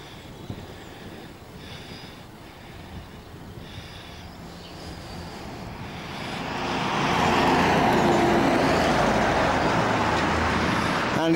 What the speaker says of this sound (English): It'll be a bit noisier in a minute when we hit this main road